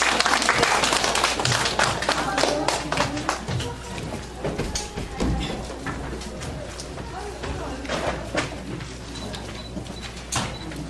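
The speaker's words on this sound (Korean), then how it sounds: "김민호 교수님을 모시고 박수로 환영해 주시기 바랍니다" An audience at a Gwangmyeong lifelong learning festival conference claps to welcome Professor Kim Min-ho, steady applause with a voice speaking over it.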